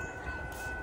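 A train passes at a distance, heard as a faint, steady rumble with a sustained tonal whine running through the short stretch.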